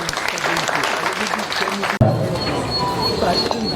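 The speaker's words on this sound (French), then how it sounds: "On peut applaudir le Seigneur." A crowd at a civil wedding claps steadily, then after a brief dip the applause resumes dense and loud.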